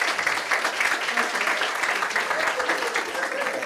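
Audience applause at a meditation museum grand opening, a dense, continuous patter of clapping hands from a crowd, fairly close and steady throughout the short stretch.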